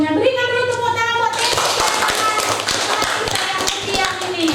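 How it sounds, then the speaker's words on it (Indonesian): A teacher's voice leads into a classroom of students clapping, with irregular, sharp, close hand claps spreading into scattered applause that continues to the end. "Berikan dulu tepuk tangan buat"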